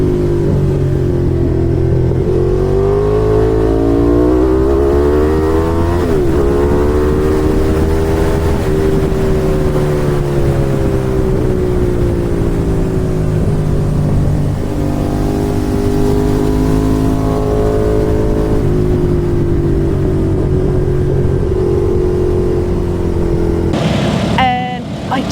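Race car engine at a lakeside track day, revving hard near redline in second and shifting to third, with rising and falling harmonic pitch sweeps marking each gear change; loud and continuous throughout, close-miked in-car.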